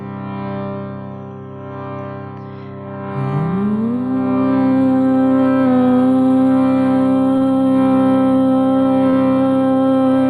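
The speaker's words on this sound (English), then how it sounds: "now for the sound of Om, breathe in" A single voice chants a sustained Om during a yin yoga session, swelling in after about three seconds into a steady, resonant hum that holds loud and even to the end, with soft breathy sound before it.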